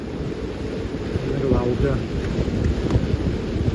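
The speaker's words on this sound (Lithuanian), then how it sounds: "Vėja daug, gūsiai dar stipresnė." Strong, gusty wind buffets a harbour at Burgsvik on a stormy day, a steady low roar with surging gusts while a person talks over it.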